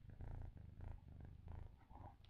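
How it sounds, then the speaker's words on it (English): A pet cat purrs right up against a microphone, a deep, rhythmic rumble pulsing in steady cycles, close and quiet with no talk over it. "He's purring hardcore."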